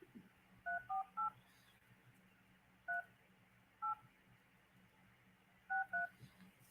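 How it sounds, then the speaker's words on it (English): A phone number being dialed on a telephone keypad: clusters of crisp DTMF key tones, three quick beeps, then single tones spaced apart, then another pair, each clear and close over quiet background hum. "let's go ahead and dial a number"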